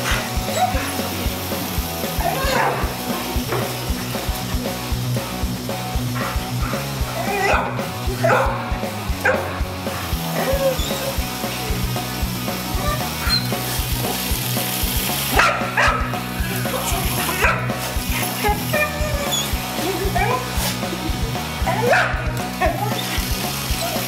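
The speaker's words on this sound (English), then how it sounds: "This is the most she's ever barked before." A dog barks and yips excitedly in repeated bursts, close and loud, mixed with whimpers and a person talking over a constant background hiss.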